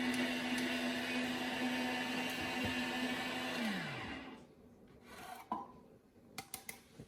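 An espresso coffee grinder runs at a coarse setting with a steady, loud whirring grind that winds down and stops partway through, followed by a few light clicks and taps.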